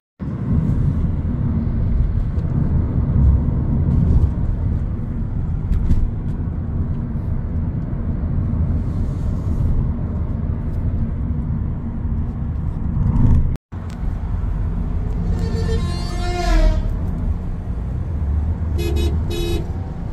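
Heard from inside a moving car on a road in Vietnam between Phan Thiet and Saigon: a steady, loud engine and road rumble with a brief dropout partway through, then a car horn toots near the end.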